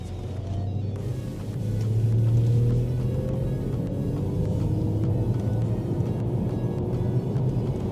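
Synthetic sporty engine note from the cabin sound generator of a 2025 Ford Puma EV, heard inside the car while driving: a steady low hum and drone with rising tonal whine, swelling briefly as it accelerates, no talk.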